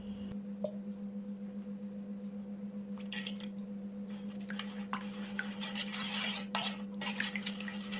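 A spoon stirs essential oil into a homemade glycerin soap base mixture: soft wet swishing and a few clinks against the bowl over a constant low hum, quiet and close, no talking.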